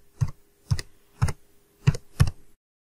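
Five distinct computer keyboard keystroke clusters, spaced evenly and close, click in a quiet room with no talking.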